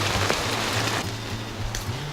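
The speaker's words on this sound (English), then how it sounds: "now I hear the rain coming from the other direction" A gentle rain sprinkle falling on rainforest trees, a soft continuous hiss of drops pattering on leaves, close and even with no voices.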